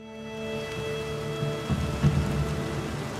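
Rain and rolling thunder in Red Dead Redemption 2 near Blackwater, a steady downpour hiss with low thunder rumbles swelling toward the end, no voices.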